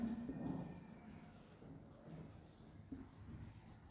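Pen scratching steadily across paper while math involving roots and indices is written out by hand for a class 8 lesson, soft and close with a few louder strokes.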